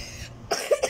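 A child gives a short burst of coughs, two or three close together and fairly near, alone without talk.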